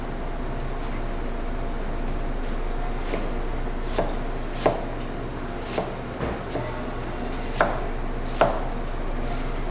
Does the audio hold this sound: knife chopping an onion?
yes